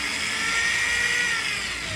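A power drill whirs steadily as it drives a Phillips screw into metal, held at a controlled, moderate speed; the motor hum is close and continuous with no talking.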